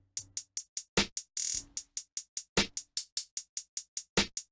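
An FL Studio drum beat built from crisp hi-hat ticks and a snare, looping in a steady, fast rhythm of short, sharp hits with a longer noisy burst early on, dry and alone.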